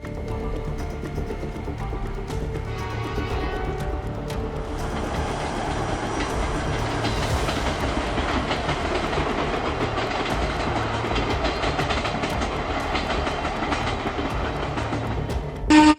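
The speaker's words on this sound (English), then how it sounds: "the SL Akita Komachi C6120 and the Super Komachi E6 series running side by side" The SL Akita Komachi C6120 steam locomotive and a Super Komachi E6 series train run side by side, a continuous rumbling roll of wheels on track with faint rhythmic clatter, steady and fairly close throughout.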